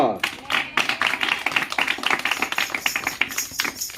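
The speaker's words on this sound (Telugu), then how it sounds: "గట్టిగా చప్పట్లు కొడుతో." An audience claps in a steady run of fast, loud, crisp hand claps that lasts throughout, with a voice speaking over it at the start.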